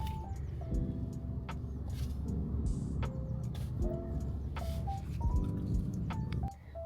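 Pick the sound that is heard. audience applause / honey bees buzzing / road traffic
road traffic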